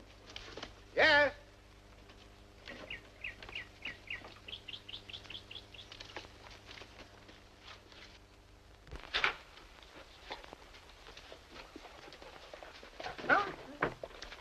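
A dog in a 1948 film scene barks once sharply, then gives a run of short whimpering yelps and later a few more barks, all fairly close, with people talking quietly in between.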